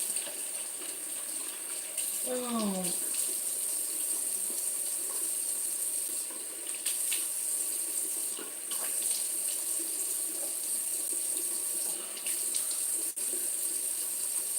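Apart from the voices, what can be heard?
tap water running while washing face with cold water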